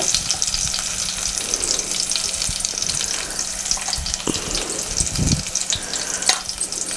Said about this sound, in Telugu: పసుపు కూడా నూనెలో వేయించేసుకొని